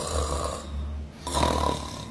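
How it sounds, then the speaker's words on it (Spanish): A person snoring: two deep, rasping breaths in a row, loud and close, each a rumbling low drone with a noisy rattle, with no talking. "Solo roncando."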